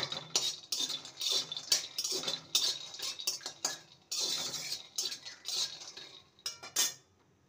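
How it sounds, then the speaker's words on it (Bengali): Peanuts fry in a pan, stirred with a utensil that clinks and scrapes against the metal in a busy, uneven rhythm, with a faint sizzle underneath. "বাদামটাকে ভেজে নিয়েছি, এবার তুলে নেব"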